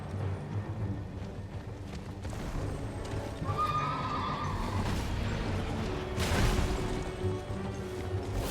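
A horse in the Elden Ring video game neighs with a long whinny, and hooves clip-clop around it over rumbling game ambience, with a crash near the end.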